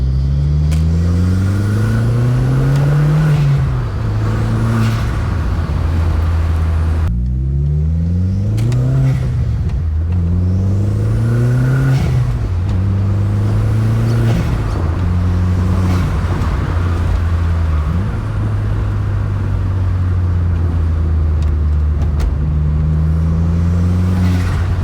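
Volkswagen GTI turbo engine with a RamAir intake revving repeatedly, loud and close, its pitch rising and falling through several throttle blips with a strong whooshing intake roar and no talking.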